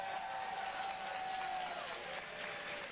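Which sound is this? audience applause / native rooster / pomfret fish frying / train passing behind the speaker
audience applause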